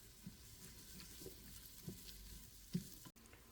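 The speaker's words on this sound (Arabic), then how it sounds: "بعد ما سخن الزيت نحط البصل، ونخليه لين ما يتحمر" Onion frying in hot oil in a pot while a Saudi meat kabsa is being cooked, with a faint, steady sizzle and light stirring sounds close by.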